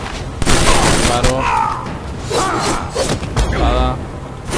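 Gunfire from a character in the fighting game Injustice, a burst of shots and impacts with a Spanish-speaking player talking over the game audio.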